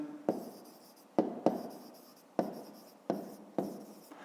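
Pen tapping and scratching numbers onto paper during a fifth-grade maths exercise, six sharp onsets with short decaying strokes between them, close and fairly quiet with no talking.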